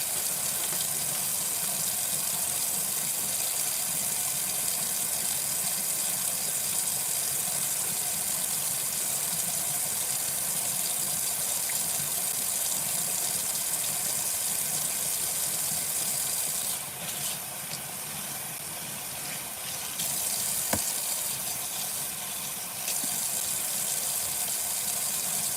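A tap runs continuously into a sink while a doll head is shampooed and scrubbed, a loud, close, steady gush that shifts briefly in tone as the flow is interrupted, with no talking.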